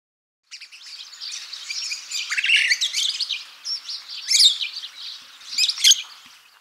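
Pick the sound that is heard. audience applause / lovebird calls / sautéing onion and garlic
lovebird calls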